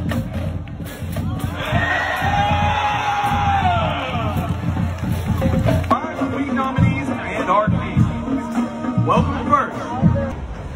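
A big crowd at a Texas school homecoming pep rally roars with yells, whoops and cheering, a swelling mass of voices that rises and falls over about ten seconds, loud and reverberant.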